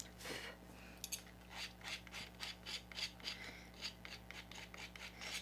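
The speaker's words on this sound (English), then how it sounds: "you can just kind of take a palette knife and scrape that off" A palette knife scrapes glimmer paste off a stencil, a series of short dry rasping strokes in a steady rhythm, close and fairly quiet, with a low steady hum underneath.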